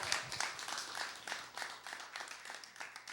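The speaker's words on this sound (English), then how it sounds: "Let's give a big round of applause for Andrew Brown" Small café audience at a spoken-word open mic claps after a performance, a faint, steady patter of scattered hand claps heard from some distance.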